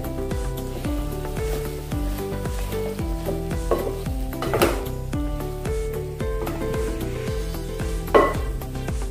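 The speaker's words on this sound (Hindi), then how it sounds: "तो पहले हम पनीर डालेंगे इसमें।" Fried paneer added to a pan for tawa pulao and stirred, a rhythmic clatter of a spatula against the pan over a faint sizzle, close and steady, repeating every half second or so.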